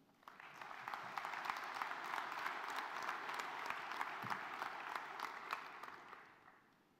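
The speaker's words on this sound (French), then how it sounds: "messieurs Filippo et Rospars, je pense que vous pouvez les applaudir." An audience at a general assembly breaks into sustained applause that swells quickly, holds steady for several seconds and then tapers off. It is fairly distant and roomy, and no one speaks over it.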